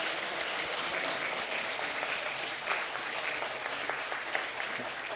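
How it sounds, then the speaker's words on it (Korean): A church congregation at a Sunday worship service applauds warmly for the children, a dense, even clapping that fills the room throughout without pause. "우리 아이들이 인사할 때 큰 박수로 축하해 주시기 바랍니다."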